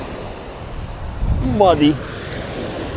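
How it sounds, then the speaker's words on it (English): A south wind blows across a beach at midday near high tide, with steady wind rumble and surf wash throughout while someone speaks briefly in the middle. "we have a south wind blowing from this direction"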